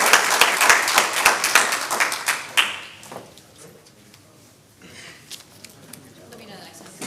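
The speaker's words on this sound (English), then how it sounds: "If we could just get a round of applause for them" An audience claps in a dense round of applause that lasts about three seconds and then fades into scattered taps and murmuring voices.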